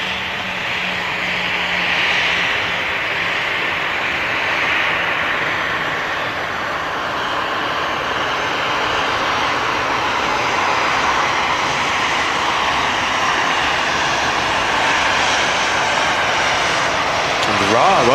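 An Air Canada airliner lands at Manchester Airport, its engines roaring in a broad, sustained rumble that rises and fades as it passes, with people talking over it.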